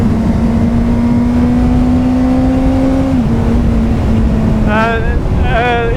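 A Honda CBR600 sport motorcycle rides along shifting up without the clutch, a loud steady engine drone that dips as the gear changes, then rising revs, under heavy wind roar.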